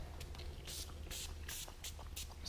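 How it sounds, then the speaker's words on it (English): A small spray bottle of adhesive remover gives several short, soft hissing spritzes in an irregular rhythm, faint and close, with a low background hum. "So spray a little on there."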